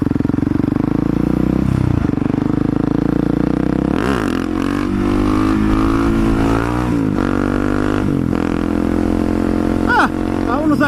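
A Husky supermoto motorcycle engine roars loud and close, revving up and down through repeated throttle blips during a wheelie attempt, with wind buffeting and a rider's voice partly mixed in.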